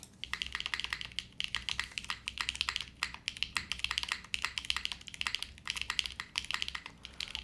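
Steady typing on a Zoom 75 mechanical keyboard built without foam, a run of quick, crisp keystrokes in an uneven rhythm, close and fairly soft, with no voice.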